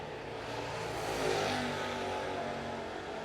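Late model race cars roar on the Cherokee Speedway oval at the green flag, a dense, steady engine drone that swells slightly in the middle as the pack accelerates, heard from a distance.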